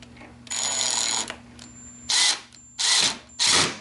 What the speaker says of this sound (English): so I am going to start screwing them back on